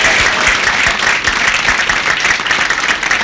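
An audience at a comedy stage show bursts into loud, continuous applause, a dense wash of clapping that holds steady across the short stretch.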